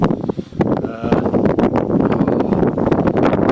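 Cold wind gusting at a campsite, buffeting the microphone in loud, uneven rumbling bursts, with a brief lull near the start.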